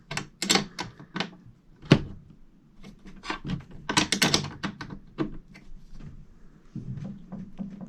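A cable lug is tightened down onto the terminal of a 2000 watt pure sine wave inverter, giving a series of close, sharp metallic clicks and ratcheting taps in an irregular rhythm, some of them grouped in quick bursts.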